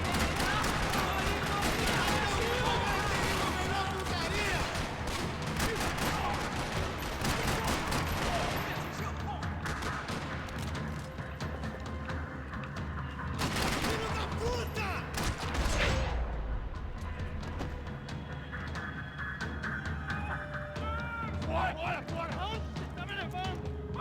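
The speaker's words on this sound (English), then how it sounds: "Another parking lot rattling with gunfire." Max Payne 3 gunfire rattles in dense bursts in a parking lot, rapid shots layered over a loud, busy soundscape with occasional voices mixed in.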